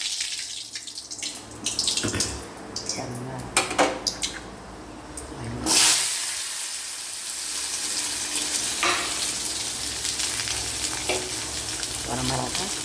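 Asafoetida sizzles in hot oil for an onion tamarind curry, a continuous near frying crackle with spoon stirring, a brief louder burst midway and running tap water in the background.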